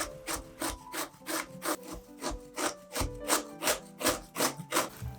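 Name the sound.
grating zucchini on a coarse grater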